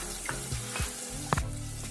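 Onions with salt and turmeric frying in a pan, a loud close sizzle with a few scraping stirs and brief bursts of crackle, no talking.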